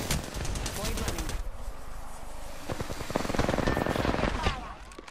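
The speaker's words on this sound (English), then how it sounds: "The enemies are shooting at me." Enemy gunfire in the video game Apex Legends: rapid, dense bursts of automatic shots fire nearly without pause, loud and close, with sharper volleys toward the end.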